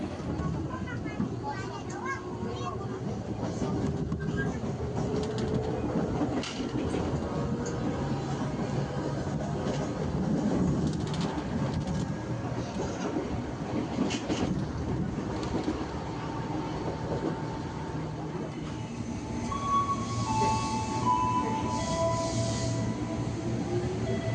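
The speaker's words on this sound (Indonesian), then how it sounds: "untuk kali ini saya naik KRL dengan relasi Rangkas Bitung menuju ke Tanah Abang teman-teman." A KRL commuter train rolls from Rangkasbitung toward Tanah Abang in Indonesia, with a steady loud rumble and rattle heard from inside the carriage, and voices talking over the running noise.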